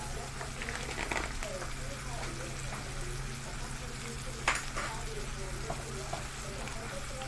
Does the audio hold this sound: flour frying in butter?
yes